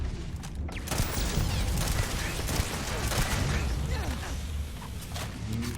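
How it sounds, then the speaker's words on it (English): Laser turrets firing in the video game Starfield: a steady barrage of rapid zapping shots with whooshes and bursts layered over dense combat noise, loud and continuous throughout. "Those are fucking laser turrets."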